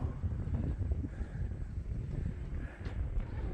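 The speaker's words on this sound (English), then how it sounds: "so windy." Wind buffeting the microphone on the summit of Coronet Peak near Queenstown, New Zealand, a low rumbling roar that gusts and swells unevenly, close and fairly quiet.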